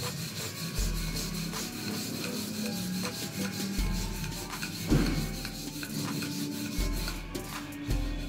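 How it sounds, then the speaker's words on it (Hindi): A rolling pin working triangular palak paratha dough on a board, a repeated soft rubbing and rasping stroke in a steady back-and-forth rhythm, close and fairly quiet, with a low hum underneath and no speech. "हल्के हल्के हाथों से बेल लीजिए, जो शेप चाहे आप उस शेप में बेल लीजिए"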